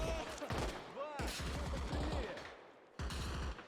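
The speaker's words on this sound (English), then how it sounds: "they're providing a lot of suppression fire" Suppressive gunfire in the military shooter Arma Reforger: repeated bursts of shots, some echoing or distant, with another burst near the end. A voice and other speech-like sounds run underneath.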